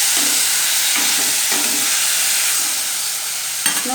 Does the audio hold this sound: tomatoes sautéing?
yes